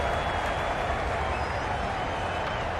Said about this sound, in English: the crowd have joined the party. It's pretty noisy in the ground.